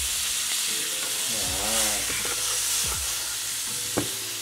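Garlic butter sizzles and spits in a hot pan during basting, a steady frying hiss with stirring and scraping of utensils, close and fairly loud.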